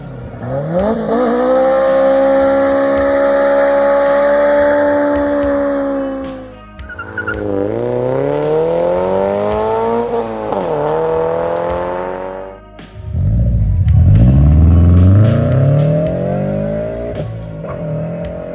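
Engines of a Toyota AE86, GT86 and GR86 rev hard in turn, each climbing steadily in pitch through the gears, loud and close, with squealing, throaty pulls and sharp drops between shifts.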